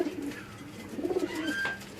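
Perched pigeons in Karachi give soft, repeated throaty coos close by, in two or three rolling phrases over faint background noise, with no talking.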